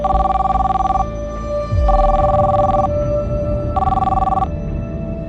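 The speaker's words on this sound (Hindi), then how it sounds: "मैं 16 तारीख की फ़्लाइट से भोपाल आ गया और उसे फ़ोन किया" A telephone rings loudly and close by, in repeated bursts of electronic trilling separated by short silent gaps, with a low background hum and no talk.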